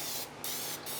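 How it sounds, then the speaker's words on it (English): Two short hissing bursts of cooking spray hit a Kamado Joe rotisserie basket before a wing cook. They are close and fairly soft, each under half a second, and no one talks. "put some spray oil on your basket here"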